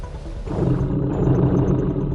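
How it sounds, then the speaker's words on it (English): A tiger's deep, sustained roar-growl, loud and close, rumbling steadily for about two seconds with no other sounds. "When a tiger growls, it creates sounds below 18 hertz."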